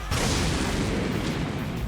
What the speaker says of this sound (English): What was that sound? An explosion.